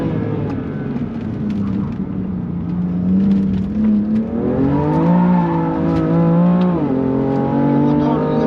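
BMW M3 engine held at full throttle on a race circuit, a loud sustained in-car roar climbing in pitch and dipping at a gear change before rising again.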